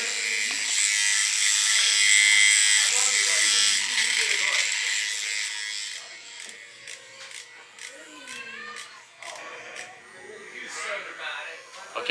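A Mummy Anubis tattoo machine running at 7.1 volts gives a steady high-pitched electric buzz that is loud at first, then quieter and more uneven while someone talks over it.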